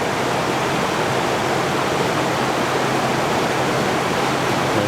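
River water rushes past an old canal mill ruin, a loud, continuous broadband roar with no pauses.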